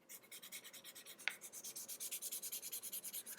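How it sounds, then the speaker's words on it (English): Sandpaper worked back and forth along the edge of a fold-in cardholder to bevel it to a 45-degree angle, a quiet, steady rhythmic rasping of about two strokes per second, heard alone. "So I need you to actually sand down like a 45 degrees angle here"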